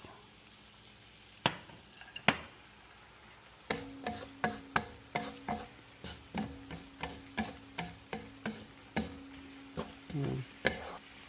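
Onions frying in a pan for pancit bihon, a continuous sizzle broken by a long run of sharp, regular spatula scrapes and taps against the pan, close and fairly loud, with no talking.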